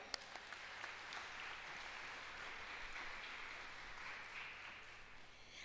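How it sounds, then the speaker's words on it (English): Faint, distant applause rises in a crowd at a school graduation ceremony in Bangalore, India, a soft continuous patter of many hands that sustains evenly for several seconds. "Please give yourself a round of applause."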